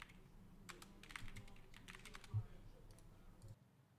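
Rapid clicking keystrokes on a computer keyboard during a Discord call, a quick irregular run of light taps close to the mic, faint and soon trailing off into quiet.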